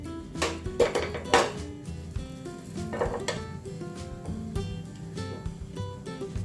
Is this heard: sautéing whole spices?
yes